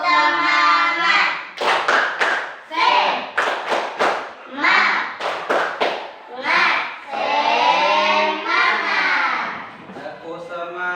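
Schoolchildren in a classroom clap a rhythmic spirit clap, bursts of sharp hand claps in patterned groups mixed with chanting young voices and an adult speaking.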